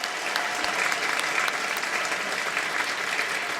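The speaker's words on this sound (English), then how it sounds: "Please give our panel a round of applause." An audience claps for a panel at an event launching a book, steady dense applause from many hands, even in loudness and sustained without pause across the whole moment, with no voices standing out.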